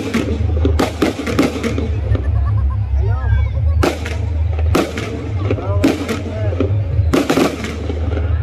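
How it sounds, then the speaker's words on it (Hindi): Firecrackers and fireworks burst during a Dussehra celebration in Bhatgaon, Surajpur, Chhattisgarh, with sharp loud bangs at irregular intervals over a constant rumble of crowd noise and whistling rockets. "अभी पटाखा जलाया गया है, आतिशबाजी किया जा रहा है"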